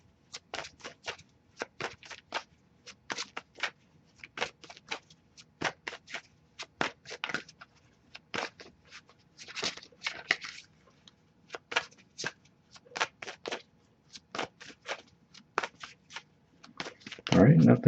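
Tarot cards riffled and shuffled repeatedly in short bursts of crisp flapping, close to the microphone, with brief pauses between bursts.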